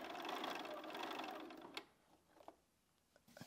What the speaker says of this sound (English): I'm just going to sew 1/4 inch either side of that line, scant 1/4 inch